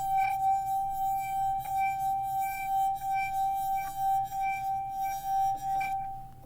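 A struck drinking glass rings with a clear sustained tone, lightly re-struck several times so the ringing pulses, close by.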